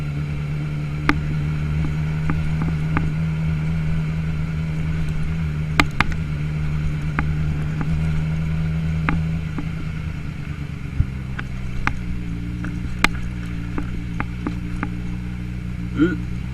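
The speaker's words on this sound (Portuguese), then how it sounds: "Vamos lá, segunda-feira, dar uma voltinha de CBR 600F" Honda CBR 600F motorcycle ridden on a Monday commute in the rain, a steady engine drone with a held note that drops in pitch as the bike slows, plus wind noise and occasional sharp clicks and knocks.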